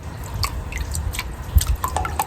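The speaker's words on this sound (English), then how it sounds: "I have water in my bucket right here. I'm just dipping my brush in it." A brush is dipped into a bucket of water during grow bag cleaning, followed by a scattered series of small splashes and drips close by, with no talking.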